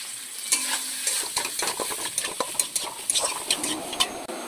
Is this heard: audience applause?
no